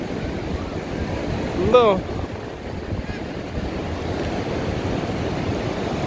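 Large ocean waves break on the beach at Balneário Camboriú in a steady, broad roar mixed with wind buffeting the microphone, and a person briefly speaks over the surf.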